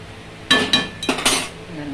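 A utensil scraping and clinking against a metal pan while plantain pieces are stirred with rock salt: a handful of sharp, close metallic knocks and scrapes within about a second, then quiet.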